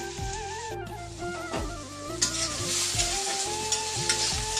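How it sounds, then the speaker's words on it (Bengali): Food frying in a pan on a home stove, a continuous close sizzle broken by repeated scraping strokes of a spatula stirring, no voices. "বন্ধুরা দেখো আমার ভাজাটা হয়ে গেছে"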